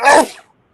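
A single close, loud sneeze, a short forceful burst that cuts off quickly into silence.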